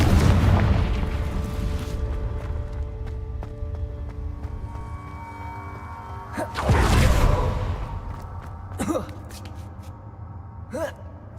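A Confringo fire spell fires off in Hogwarts Legacy, a booming blast with a whooshing burst midway, followed by smaller impacts and crackles against a rumbling game soundtrack, with a voice casting spells.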